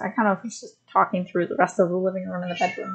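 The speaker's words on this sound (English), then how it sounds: "but I apologize for my cat. You know, she likes to talk." A pet cat meows repeatedly in short, close, vocal bursts that overlap someone talking casually indoors.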